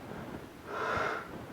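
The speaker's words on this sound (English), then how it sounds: "I've trained myself to make heavy breathing noises." A person deliberately makes a heavy breath, one brief breathy rush that swells and fades within about a second over a low background hiss.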